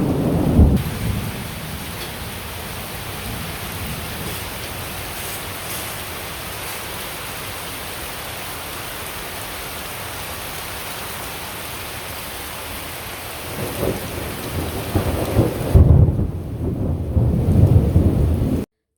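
Continuous rain pours down with a dull, constant hiss, broken by deep rolling thunder at the start and heavier rumbles toward the end.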